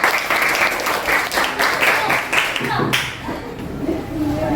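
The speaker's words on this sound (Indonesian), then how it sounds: "berikan tepuk tangan kelompok 2" Classmates clap for group 2 in a classroom presentation session, brisk close-up applause that fades out near the end, with voices chattering underneath.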